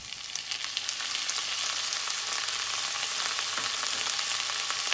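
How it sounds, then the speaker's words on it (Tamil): Sliced onions fry in oil in a pan for a village-style fish curry, giving a steady, close hiss and sizzle with faint crackles throughout and no talking. "இப்போ வெங்காயம் நல்லா வதங்கிடுச்சு"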